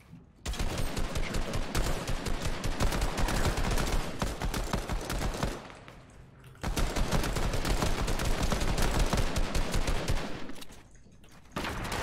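Rapid Fortnite gunfire rattles in two long, dense bursts split by a brief lull, loud and close, with no talk over it.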